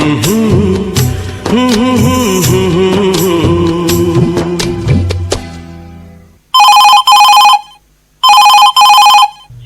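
A telephone rings for a radio phone-in request show of Hindi film songs, two loud electronic double-burst rings sounding alone right after music fades out.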